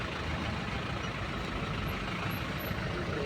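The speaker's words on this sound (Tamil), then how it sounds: "இதுலேயே பாருங்கள் சர்வீஸ் ரோடில் எவ்வளோ டிராஃபிக்" Heavy trucks and buses crowd the service road beneath the Rayakottai bridge in Hosur, a dense, continuous rumble of engines and road noise with no pauses, loud and unbroken throughout.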